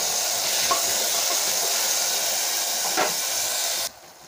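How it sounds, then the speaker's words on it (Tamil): Small onions, garlic cloves, curry leaves and tomato sauté in a pan for Salem mutton kulambu, giving a steady hissing sizzle with faint stirring that cuts off abruptly near the end. "இது நல்லா வதங்கட்டுங்க"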